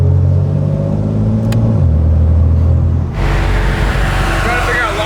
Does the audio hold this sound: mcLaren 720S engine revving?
yes